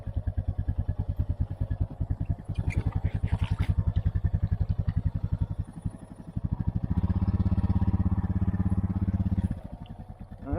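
A Honda Foreman or Rancher ATV with the O2 sensor deleted labors up a steep bank out of water. The engine chugs close and loud with a strong pulsing beat, swelling under load, with brief talk.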